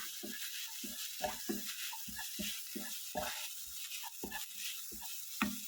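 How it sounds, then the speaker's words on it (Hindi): Garam masala with green chilies sautéing in a pan for baingan bharta, a spatula scraping and stirring in a quick uneven rhythm over a faint steady sizzle, close up and quiet, with no talk. "ये देखिए, इसको थोड़ा सा सॉटे कर दीजिएगा।"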